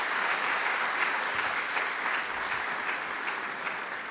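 An audience at an academic congress applauds a professor. The clapping is steady, dense and even throughout, with no voices over it.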